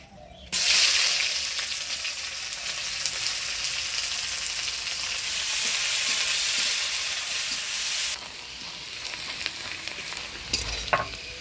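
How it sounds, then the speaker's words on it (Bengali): Chopped onion frying in a pan with dried red chili, bay leaf and whole spices for a rohu fish kalia, a loud steady sizzle that swells at the start and drops to a quieter crackle near the end, with some stirring clinks. "ভুনে দিব শুকনো লঙ্কা, তেজপাতা, গোটা গরম মশলা। দিয়ে দিচ্ছি পেঁয়াজ কুচি।"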